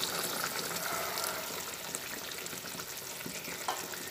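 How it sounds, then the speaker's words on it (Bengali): Pointed gourd frying in a pan sizzles steadily as a cup of milk is poured in, a soft continuous bubbling hiss with light stirring scrapes. "1 কাপ দুধ এর মধ্যে দিয়ে দিচ্ছি"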